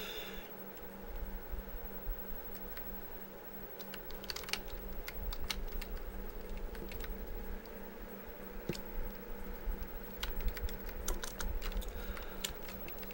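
Typing on a computer keyboard, rapid irregular key clicks in bursts over a steady low background hum, moderately close and without speech.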